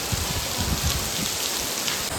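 Steady rain pours down with dense pattering on surfaces and a low, rumbling undertone.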